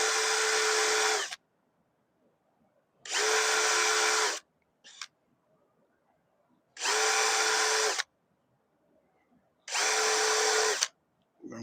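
A power drill runs in four sustained bursts of a second or so each, separated by quiet gaps, as it drills holes in a mailbox face plate. It sounds steady and fairly close with no talk.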